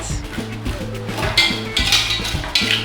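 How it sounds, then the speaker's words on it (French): A metal spoon scraping burnt rice from the bottom of a pot in Senegal, heard as a series of close, rhythmic scratching strokes and light metallic clinks, with faint voices in the background. "c'est le fond de la marmite qu'on gratte"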